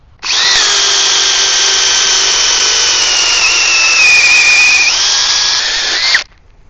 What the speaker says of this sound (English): Everything about this drill just feels great. 1 1/8 Diablo spade bit.